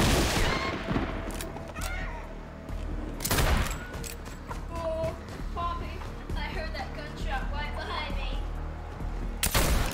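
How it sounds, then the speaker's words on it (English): Gunfire in the video game Fortnite: a few sharp, loud shots stand out, one near the start, one in the middle and one at the very end, over steady game noise and scattered player chatter. "I heard that gunshot right behind me"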